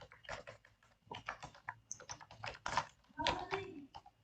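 Rapid bursts of close typing on a computer keyboard clatter quietly while an online form is filled in, with someone speaking softly between the keystrokes.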